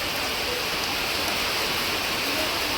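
Heavy rain pours in a steady, dense hiss of drops on surfaces, constant and even throughout with no voices.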